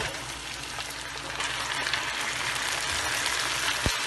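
Chicken goes into a pan of golden fried onions over a high flame, producing a loud, continuous close-up sizzle with a sharp clink near the end.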